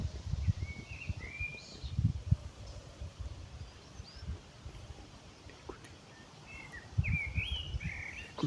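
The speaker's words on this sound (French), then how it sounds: "Écoutez la louange des oiseaux" Birds chirp and sing outdoors in open nature, several short calls scattered through the clip over a low rustling background with soft wind and leaf noise.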